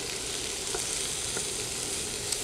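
A masala spice mix is stirred into a frying pan of cauliflower fried rice, a soft, even sizzle with faint scraping, steady and fairly quiet, no voices.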